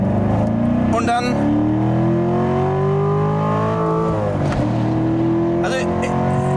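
Corvette C7 on a fast lap, its engine revving hard through the gears with rising pitch sweeps and brief dips at shifts; loud and close throughout, with someone talking over it.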